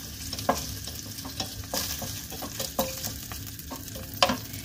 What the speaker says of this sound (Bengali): একদম লাল লাল করে ভাজবো না, প্রত্যেকটা পনির হালকা হালকা রং যখন ধরবে এইভাবে আমি সমস্ত পনিরটা তুলে নেব।